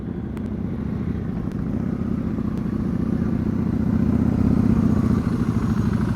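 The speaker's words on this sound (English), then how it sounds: "that engine glug is not a problem until you let that clutch out too quickly" Engine idling and rumbling steadily during clutch practice, with a low uneven glug that builds slightly louder toward the end, close and continuous with no talk.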